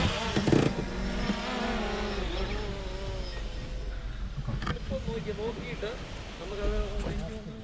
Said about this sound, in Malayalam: അപ്പോൾ ഇതാണ് നമ്മുടെ ഡ്രോൺ വിഷ്വൽസ് എടുത്ത നമ്മുടെ സ്വന്തം ഡ്രോൺ